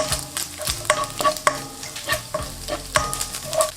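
Garlic and turkey bacon sizzle in a hot pan while being tossed and stirred, with close, irregular scraping clatters over a steady frying hiss.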